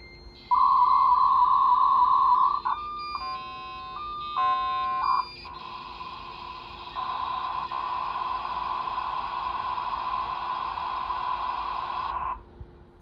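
A dial-up modem on a Packard Bell running Windows 95 connects to an old Sun workstation's serial port: a steady tone, then stepped chirps and warbles, then a long hissing burst of static that cuts off abruptly.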